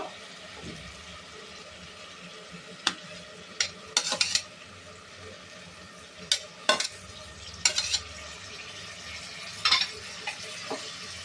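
Ingredients for masala white palav fry in a pan, giving a soft, continuous sizzle with a few sharp clinks and scrapes of a spoon against the pan, scattered irregularly throughout.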